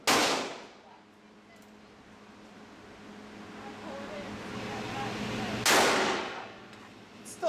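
Two loud, sharp single shots from a Thompson submachine gun at a range, one at the very start and another near the six-second mark, each followed by a decaying ring and low outdoor ambience.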